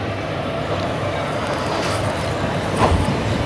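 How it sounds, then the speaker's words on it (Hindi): Marathwada Express pulling out of Nagarsol station, a steady low rumble of rolling rail cars with a brief squeal of wheels near the end, continuous and fairly loud, no voices. "उसके बावजूद ट्रेन 7 मिनट डिले के साथ नागरसोल से निकल रही है"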